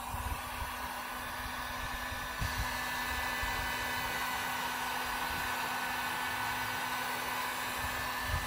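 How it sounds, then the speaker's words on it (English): A heat gun blows steadily on a vinyl-wrapped Can-Am Ryker front fender to loosen it for removal, a continuous close, even whir with a faint hum that holds at the same level throughout. "We're going to have to heat it up with a heat gun to get it off inside."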